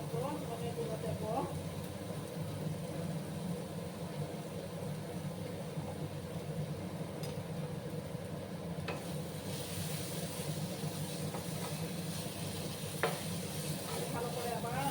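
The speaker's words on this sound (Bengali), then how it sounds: "ভালো করে আবার আমি মিক্স করে নিলাম।" Spices are stirred and mixed in a frying pan for boal fish curry, a soft scraping and steady sizzle running throughout while a person talks over it, with a couple of brief clinks.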